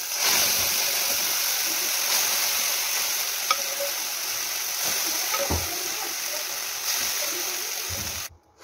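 Dried red chillies and onion fry in hot oil for a dal tempering, a loud, steady hissing sizzle with scattered pops and a few stirring scrapes before it cuts off suddenly.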